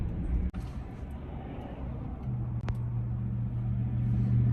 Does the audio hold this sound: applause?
no